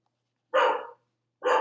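A dog gives two loud, close barks about a second apart, each short and sharp, against silence.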